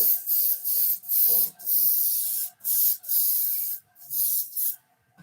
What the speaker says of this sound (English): Just going to spray.